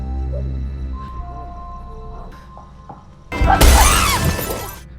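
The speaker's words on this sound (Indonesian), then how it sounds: "hingga Ben menghancurkan kaca pintu tersebut" A glass door pane shatters loudly as a chimpanzee smashes it in a horror film, one violent crash with crackling shards ringing out for over a second after a tense, quiet lead-in.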